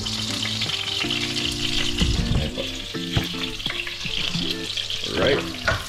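Onion and ginger sautéing in a pot for bulalo, a loud, steady frying sizzle with repeated stirring scrapes and clanks of the utensil, close up, with some running water from a tap in the background.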